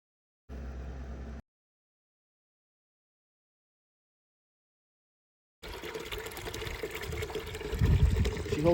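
Water pours into a repaired, previously cracked water bucket: a short splashy burst, a pause of silence, then a longer steady pour that grows fuller and louder toward the end.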